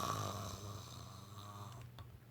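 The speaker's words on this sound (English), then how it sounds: "There comes a snore." A single drawn-out snore, low and rumbling, rising over a couple of seconds in a quiet storytelling setting, heard alone with no talking.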